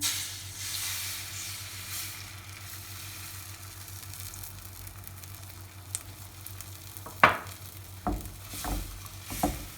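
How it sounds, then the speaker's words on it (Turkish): Beaten eggs hit a hot, oiled frying pan for a cheese omelet, giving a steady, close hiss and sizzle, with a few light clinks and taps of a utensil toward the end. "Şimdi tavamız ısındı. Yumurtamı ben güzelce ilave ediyorum."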